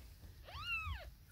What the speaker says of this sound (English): So here's Melody Snowcastle with her kittens